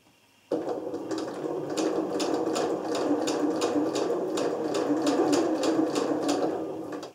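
A sewing machine runs steadily for about seven seconds, stitching piping with a cord inside onto a handbag. It starts abruptly, keeps a close, even mechanical whir with a rapid rhythmic needle clatter, and has no talk over it.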